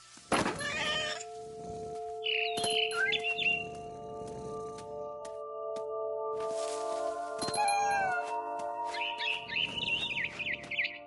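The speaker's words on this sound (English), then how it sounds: "Then I heard chirping outside my window. It was a barn swallow going back to her nest." A barn swallow chirps and twitters near its nest in the video game What Remains of Edith Finch, with cat meows and brief noisy bursts over a sustained tonal backdrop; no one speaks.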